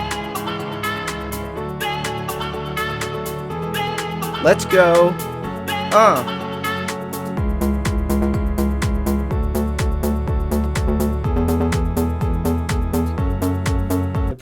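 A beginner producer's house track plays loud and steady, with a synth intro and bright stabs, then a heavy four-on-the-floor kick and bass enter halfway through. A voice says a few words near the start.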